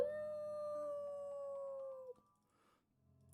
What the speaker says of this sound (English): you start to hear the sound of howling coming from the now open